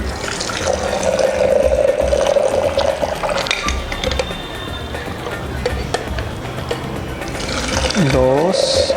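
A Negroni cocktail is aerated with plenty of ice, liquid pouring and splashing loudly between vessels in a steady stream, with a clink of ice near the end, a voice speaking intermittently underneath.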